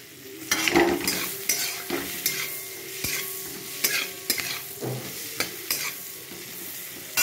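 Capsicum frying in butter with cardamom and cinnamon in a kadai over a low flame, a steady close sizzle broken by repeated scraping stirs, with no talking.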